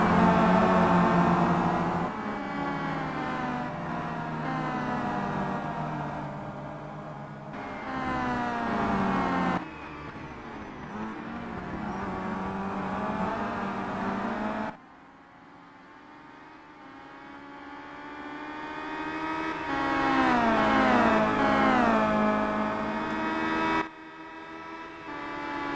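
Racing car engines in the Simraceway sim game, WTCC touring cars at Laguna Seca, whine through sustained rising and falling revs, with sudden cuts between cars and shifts in pitch, loud and steady, with no talk.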